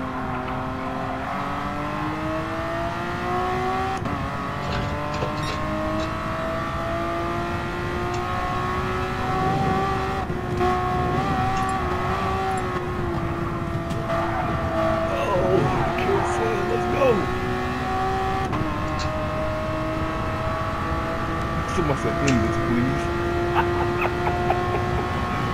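Race car engines in the Gran Turismo Sport video game, including a Ferrari F40 and F50 in a one-lap road car race, drone continuously with shifting pitch throughout, loud and steady.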